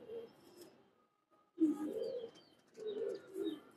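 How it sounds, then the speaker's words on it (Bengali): A female Bagha pigeon coos softly in two low bursts after a brief gap, close and quiet, with faint chirps and no talk. "এই যে আরেকটা কবুতর দেখতে পাইতেছেন আপনারা, বাঘা কবুতর, মাদি কবুতর"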